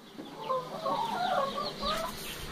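Brooding hens in a henhouse give soft, close clucks and low murmuring calls in an uneven run, alone with no talking.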